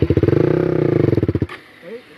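An off-road motorcycle ridden over rough ground near Guwahati gives a close, rhythmic throbbing engine sound that cuts off after about a second and a half, followed by faint voice-like sounds.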